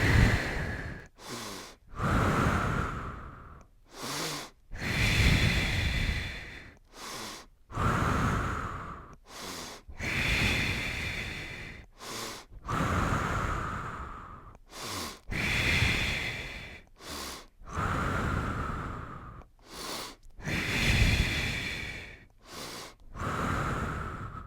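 Deep, audible breathing during a yoga flow, long slow inhales and exhales repeating in a steady rhythm, close and fairly loud with short pauses between breaths and no talking.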